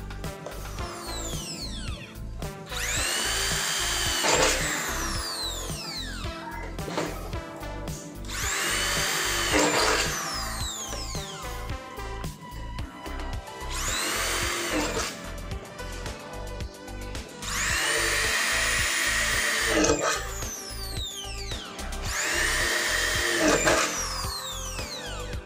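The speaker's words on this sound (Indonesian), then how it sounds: "Saya akan mengebor pada media baja ringan," A DCA ADZ02-6A power drill whines through 1 mm light steel in four separate bursts, its pitch rising and falling as it spins up and bores, with pauses between.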